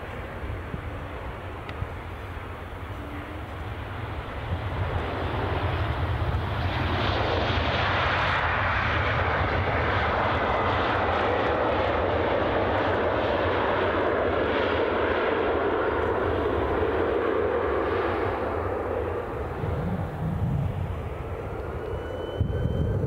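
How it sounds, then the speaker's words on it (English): An Embraer 190 long-range jet at Edinburgh Airport rises from a quiet start into a loud, sustained engine roar and whoosh, holding for most of the passage before tapering off, with no talk. "I think this aircraft is regularly assigned to this route, certainly the 190 long ranges."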